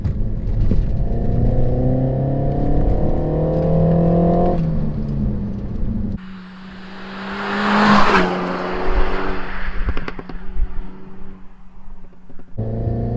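A Renault Megane RS hot hatch revs hard and accelerates through gear changes, loud and close, with rising pitch, a brief lull and wind rush.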